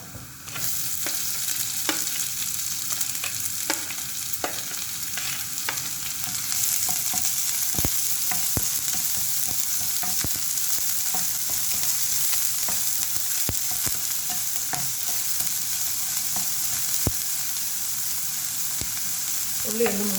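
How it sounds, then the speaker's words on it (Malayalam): Onion sautés in a pan for pumpkin leaf thoran, giving a steady close sizzle broken by frequent scraping clicks of stirring. "ഉള്ളി വഴറ്റി കഴിഞ്ഞു"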